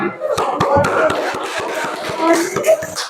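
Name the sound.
class applauding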